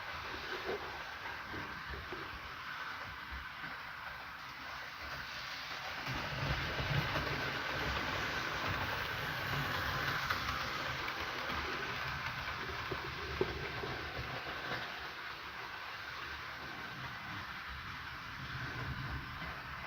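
A large model railway locomotive running on a layout gives a low, steady mechanical hum and rumble with faint hiss, continuous and fairly quiet throughout, with no talking.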